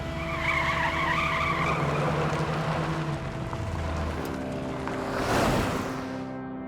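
A jeep in a film action scene revs and pulls away. Its engine drones loudly with tyre noise, then a sharp whooshing surge comes near the end before it fades.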